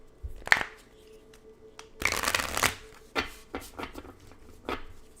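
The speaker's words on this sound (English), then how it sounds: "We're going to give the cards a good shuffle." Oracle cards riffle and slap together in bursts, with a long papery shuffle in the middle and quick flicks and taps afterward, close and fairly loud.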